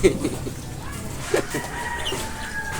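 A chicken clucking nearby in short, scattered calls, with a faint rooster-like crow and some background noise.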